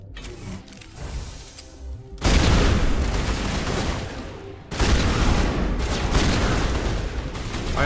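Gunfire in Mass Effect Legendary Edition: dense, continuous bursts of rapid shots and mechanical clatter that surge loudly twice and keep going without a break.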